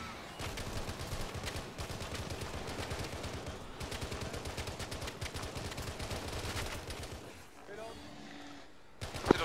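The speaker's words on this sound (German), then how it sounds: "Ich weiß nicht, ob Schüsse durchs Glas überhaupt irgendetwas macht." Rapid bursts of gunfire in a video game, fired at glass, crackle continuously for several seconds, dense and steady before easing off near the end.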